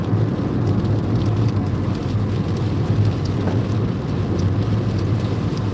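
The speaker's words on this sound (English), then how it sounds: "now it's raining, and if it gets too loud" Rain falls on a car during a cross-country drive, a dense steady hiss and patter heard from inside the cabin over a low engine and road rumble, continuous and fairly loud.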